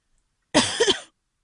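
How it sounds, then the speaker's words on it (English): A single short, sharp cough, close to the microphone, in otherwise silent surroundings. "I always cough, of course I do."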